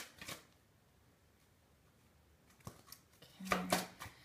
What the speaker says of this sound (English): Okay, just give it a good shuffle.